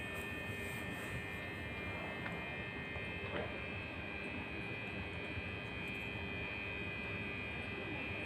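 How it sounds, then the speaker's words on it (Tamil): A train with automatic closing doors pulls away, giving a steady low rumble and a constant mechanical hum, even in level with no voices. "போகுது ட்ரெயின்."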